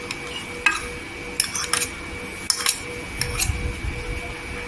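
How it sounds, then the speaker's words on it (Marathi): Curd being stirred in a bowl for a yogurt salad, a spoon knocking and scraping against the dish in scattered clinks and soft squishy stirring, close and fairly quiet, with no talking. "इथे दही मिक्स करून घ्यायचं."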